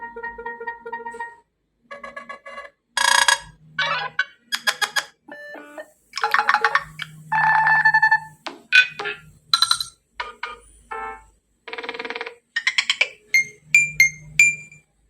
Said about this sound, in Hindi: और मैंने ये रिंगटोन सेट कर रखी है